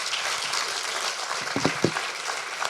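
An audience claps for speaker Didier Schmitt at the close of a talk on European space exploration, a steady patter of applause at moderate volume with a few sharper, louder claps near the end.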